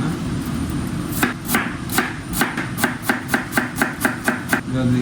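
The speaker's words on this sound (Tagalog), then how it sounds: "Then, yung kalahati ng cabbage, i-shred ko lang siya." A knife shreds half a cabbage on a cutting board, with a quick run of sharp, evenly spaced chops, loud and close, that speeds into a steady rhythm after a slow start.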